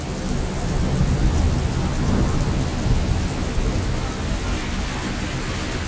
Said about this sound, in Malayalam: മരുഭൂമിയെ തണുപ്പിച്ച് മഴ ആർത്തു പെയ്തു.